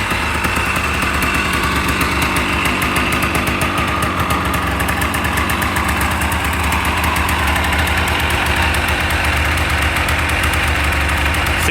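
A restored 1985 Honda ATC250R three-wheeler engine idles steadily and loudly up close, a fast even putter with a slightly uneven, lumpy pulse and no talking throughout.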